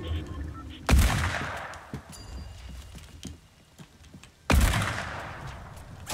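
Two loud, sharp gunshot blasts about four seconds apart ring out in a video game shootout, each with a long decaying echo, and quieter clicks and thuds fill the gap between them.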